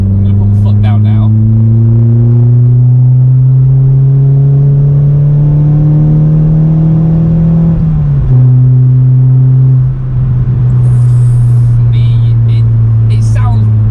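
Car fitted with a Milltek Evo2 exhaust, manifold and sports cat, accelerating hard from inside the cabin with the windows closed. A loud, rising drone climbs steadily, breaks at a gear change and keeps building, with no talking.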